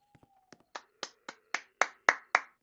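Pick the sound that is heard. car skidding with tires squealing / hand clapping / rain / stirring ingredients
hand clapping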